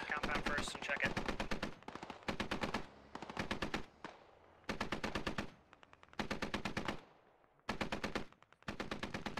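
Bursts of automatic gunfire in the tactical shooter game Squad, loud and close, firing in repeated rapid strings separated by short pauses.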